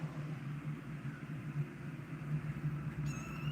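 A kitten mews faintly in a garage over a steady low hum, a single soft, quiet cry with no talking.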